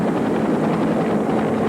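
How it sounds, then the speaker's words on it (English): An Army rescue helicopter hovers over a rocky gorge, its dense, steady rotor and engine roar filling the clip at close range with no talk. "an Army helicopter moved into position to airlift him out of the gorge"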